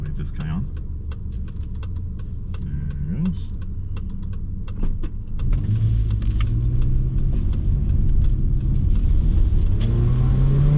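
A 2001 Subaru Outback Sport with a 2.2 engine hums from inside the cabin while driving, the low drone rising steadily, with clicks and small rattles scattered across it and occasional talk.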